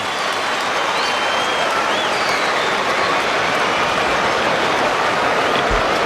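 A football crowd roars after a Sydney goal against the GWS Giants, a dense, loud, sustained wash of cheering and applause filling the whole stretch.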